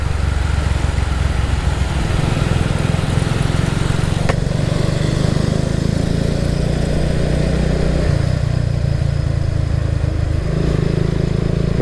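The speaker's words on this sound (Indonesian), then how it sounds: "Pertama pakai knalpot off racing ini ya, suaranya ngebas banget." Kawasaki W175 SE motorcycle fitted with an off-road racing exhaust, its engine running steadily with a deep, bassy rumble throughout, loud and close with no talking.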